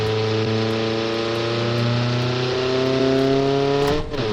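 An Isuzu D-MAX diesel pickup tuned to 500 horsepower in BeamNG drones close and loud, its engine note climbing slowly and steadily before dipping at the very end, with no talking.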